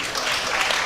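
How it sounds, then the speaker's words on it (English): A crowd claps and cheers in a brief, dense burst of applause at the Eddie Bravo Invitational, a grappling tournament. "Crowd applauds."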